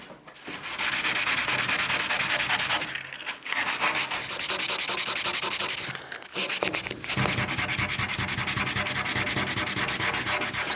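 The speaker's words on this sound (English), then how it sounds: "But yeah, grab some sandpaper." Sandpaper rubs back and forth over the painted hull of a wooden sailing canoe in long, loud, close strokes, pausing briefly twice before the rasping scrub resumes.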